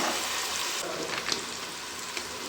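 Tomatoes frying in a pan for chicken biryani, a soft steady sizzle with small crackles and pops, close and fairly quiet, no voices.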